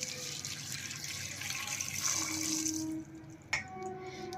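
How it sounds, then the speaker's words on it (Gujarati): Water pours steadily into a pot holding dates and seeded tamarind for about three seconds, then stops, followed by a brief clink. "હવે આપણે એમાં પાણી એડ કરશું"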